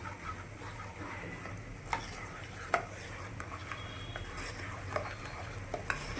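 Batter for Surati locho being stirred with Eno fruit salt in a bowl: soft, steady scraping with faint scattered clinks, quiet and close, with no talking.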